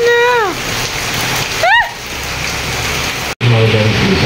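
Heavy rain from Typhoon Kristine pours down as a loud, dense, continuous hiss. Voices speak over the rain at moments.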